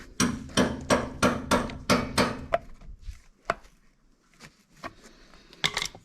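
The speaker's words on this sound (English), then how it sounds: "we're just going to use a pry bar and tap it lightly" A pry bar taps repeatedly against the rear axle hub of a 1980-1996 Ford F250/F350 pickup, a quick run of about eight close, sharp metallic knocks followed by a few scattered lighter taps.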